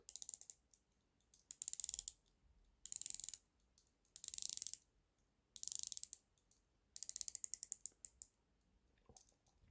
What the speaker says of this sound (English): The bezel action is 360 degrees unidirectional bezel.